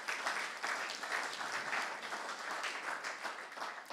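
Church congregation applauding, a steady, even roar of many hands clapping in a large hall, sustained throughout at moderate loudness.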